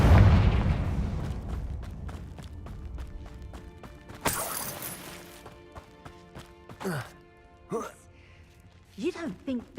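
A Confringo blast spell explodes in Hogwarts Legacy: a heavy low boom opens, then a sharp bright burst follows a few seconds later, with game effects and voices talking afterward.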